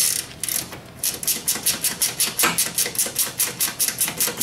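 A 10 mm wrench works a fastener on a Deere front-mounted sweeper with a rapid, loud, evenly spaced run of ratcheting clicks, about four per second, close by and without talk.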